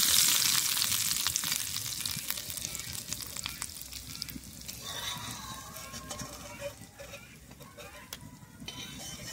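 Dry red chillies and cumin fried in hot oil are poured over moong dal with spinach, giving a loud initial sizzle that settles into a steady crackling hiss, with a few small scraping clinks near the end.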